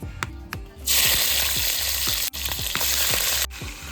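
Fish coated in salt and turmeric fries in hot oil, a loud, dense sizzle that swells after a quieter start, with repeated soft clunks of stirring or turning throughout.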